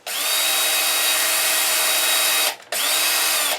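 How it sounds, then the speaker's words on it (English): A power drill whines loudly as it bores into the wooden body of an Explorer-style guitar kit, running steadily, stopping briefly, then starting again. "we have to be basically 90 degrees to the surface when we drill"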